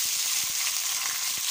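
Onion sizzles in a pot, a dense close hiss of frying with a few soft taps of stirring underneath, brief and steady.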